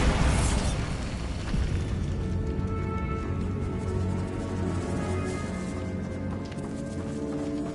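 A Bombarda spell explodes in Hogwarts Legacy inside a decaying catacomb, a sharp loud blast at the start that rolls into a long rumbling, ringing decay over several seconds.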